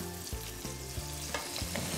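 Chicken breast fries in a pan over low heat, a steady close sizzle and crackle with a few soft scrapes and clinks as the pieces are moved.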